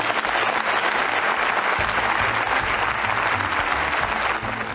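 The German Bundestag applauds after Putin's 2001 speech in German, a dense, sustained roar of clapping from a large chamber, steady and loud from start to finish.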